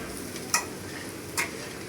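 Dry crumbled chapati with salt being stirred in a hot pan, a soft continuous sizzle with two brief sharp spatula clinks against the metal, close and alone.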